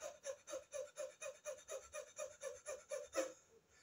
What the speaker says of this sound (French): Et par la bouche, ça serait la respiration du chien comme ça.